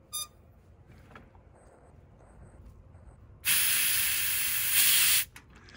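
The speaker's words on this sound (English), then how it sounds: "So I'm going to purge this yellow hose." Compressed nitrogen purged through the yellow hose of mini split manifold gauges, heard as a loud, close, steady hiss lasting about two seconds before cutting off abruptly, in an otherwise quiet setting.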